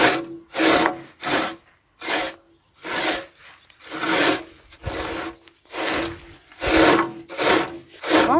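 Raking freshly mowed cut grass outdoors, with a steady series of scraping, rustling strokes about once a second, close and fairly loud, no voices.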